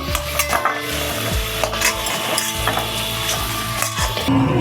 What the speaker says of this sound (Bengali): আমি ফোড়ন দিয়ে দিচ্ছি তেজপাতা, গোটা শুকনো লঙ্কা, দারচিনি, এলাচ দিয়ে দিলাম